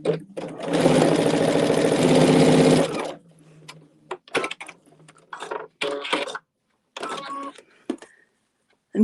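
A sewing machine stitches quilt strips in a loud, fast, steady run of about two seconds, followed by scattered clicks, light handling and fabric rustle nearby.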